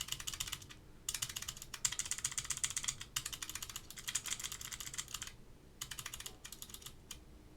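Individual keys on a vintage keyboard under restoration are pressed one after another in quick, uneven bursts of close, crisp clicks, with short pauses between runs.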